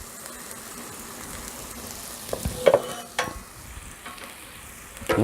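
Onions and toasted bread sizzle on a Blackstone griddle in a steady, close hiss, broken by a few sharp scraping and stirring clatters of a spatula.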